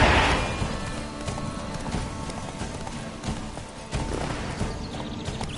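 Horse Roach galloping in Witcher 3, a close, rapid rhythmic clip-clop of hooves with a brief whinny at the start and game background noise.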